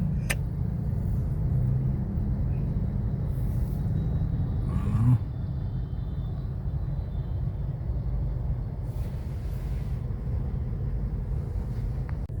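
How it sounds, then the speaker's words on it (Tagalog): Heavy, congested road traffic near Terminal 3 makes a steady low engine rumble close by, with a brief bump partway through and no voices. "Super traffic."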